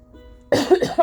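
A woman coughs several times in quick succession, loud and close, after a faint quiet stretch, while she is unwell with a frog in her throat.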